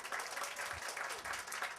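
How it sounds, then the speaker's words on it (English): An audience at a book festival applauds with continuous, fairly quiet clapping that swells and eases in gentle waves. "I want to give a round of applause to Politics and Prose."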